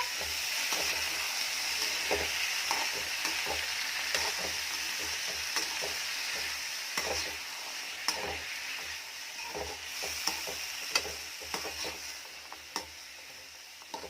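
Vattakkai (gourd) poriyal being stirred in a frying pan, a soft steady sizzle running underneath. Irregular scrapes and taps of the spatula against the pan come and go close to the mic, and no one speaks.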